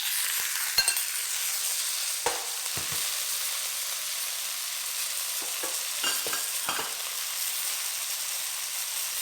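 Squid and onion stir-frying in a hot pan, a steady sizzle broken by a few scraping stirs of the spatula, close and moderately loud with no talking.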